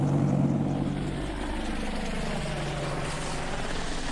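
An AH-64 Apache military helicopter in flight, a steady dense rotor and engine roar with low throbbing, moderately loud and continuous, no voices.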